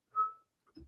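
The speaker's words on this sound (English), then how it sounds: "You're crouching, you hear the whistle." A single sustained whistle from a Seraphite enemy in The Last of Us, clear and fairly loud, followed by a short pause and a few faint low rustles.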